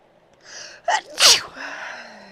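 A single close, sharp human sneeze, preceded by a brief inhaling gasp and followed by a breathy exhale, in a quiet indoor room.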